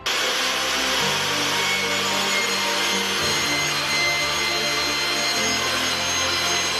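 A table saw rips wood into 3/4-inch strips against the fence, a loud continuous whirring drone whose tone shifts each time the blade load changes.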